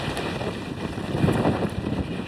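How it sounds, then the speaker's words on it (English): Steady wind buffets the microphone on the open deck of the Washington State ferry M/V Kitsap, with a continuous low rumble and gusty roar, no voices. "It's windy"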